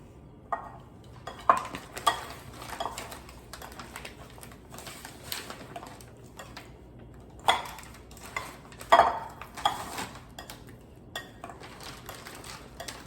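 Imitation crab meat being cut into chunks, heard as scattered knife taps and clinks of utensils on a board or dish, with irregular sharp hits and quiet gaps between them.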